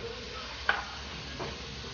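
Butter sizzling in a frying pan while oyster mushrooms cook, a soft steady hiss with a brief clink partway through.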